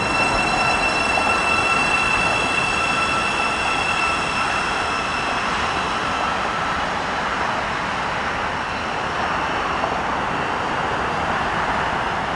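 A Thameslink Class 700 electric multiple unit pulls out of Mill Hill Broadway station, giving a steady, loud rolling roar with a high whine and faint wheel squeal that carries through the whole passage, with no voices.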